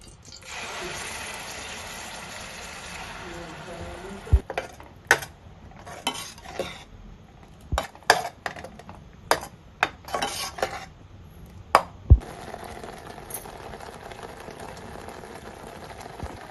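Onion paste sizzles and fries in hot oil in a pan for a grass carp fish curry, a steady hiss broken by repeated sharp clanks of a spoon stirring and scraping the metal pan.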